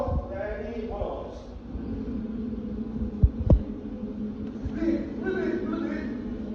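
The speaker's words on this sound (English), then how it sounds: "Give it a big old hum. Ready, hum." A group of 7th grade band students hums a single note together at a band clinic, a sustained, fairly steady blended drone that fills the whole stretch, with a few brief bumps and thumps partway through.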